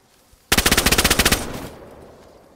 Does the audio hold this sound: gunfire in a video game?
yes